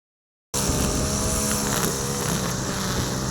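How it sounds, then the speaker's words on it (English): A loud, steady motorized whine drones without pause after a brief silence, a string trimmer cutting weeds nearby. "Sorry for the noise in the background. There's a gentleman weed eating back there"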